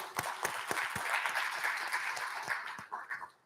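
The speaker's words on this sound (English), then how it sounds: "Give them a big round of applause" Audience applause at an awards and scholarship luncheon, a steady round of clapping with sharp individual claps standing out close by, fading toward the end.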